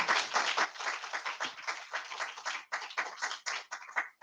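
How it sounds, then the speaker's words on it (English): An audience at a literary event applauds a panel of authors, a moderately distant, continuous patter of many hands clapping that gradually grows more uneven toward the end. "If we can have a final round of applause for Raoul, Gurjinder, Claudia, and Paul"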